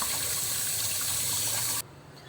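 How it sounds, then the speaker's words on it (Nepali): Boiled macaroni rinsed under cold running water, a loud steady gushing stream close by that stops abruptly near the end, with no talk. "अब यसलाई हामीले चिसो पानीले एकचोटि पखाल्न जाँदैछौँ"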